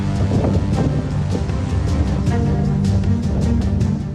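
Strong winds from Cyclone Biparjoy striking Gujarat buffet the microphone in a loud, continuous roar, with gusty surges and rumbling throughout.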